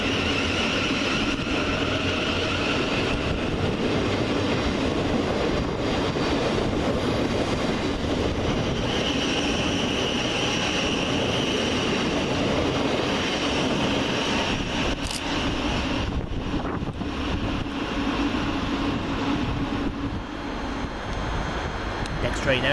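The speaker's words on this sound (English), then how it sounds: "700 117, working the 1611 Govia Thameslink service from Brighton to Cambridge via London St Pancras International" A Class 700 Govia Thameslink electric train at Three Bridges station, running the Brighton to Cambridge service, gives a steady loud rumble and hum that holds for the whole stretch, with a broad wash of rail noise and faint voices nearby.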